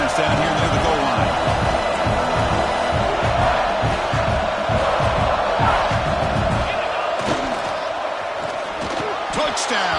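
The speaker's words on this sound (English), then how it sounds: "this big crowd doing everything possible to inspire this defense down here near the goal line" A big stadium crowd roars at an American football game, USC versus Texas, cheering to inspire the defense near the goal line; a steady loud crowd wash with sharp bursts and a commentator talking over it.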